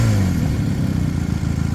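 A 1966 Honda CL160 Scrambler motorcycle engine idles steadily and loudly up close, a brief continuous mechanical burble with no talking.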